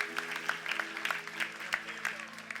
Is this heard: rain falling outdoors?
no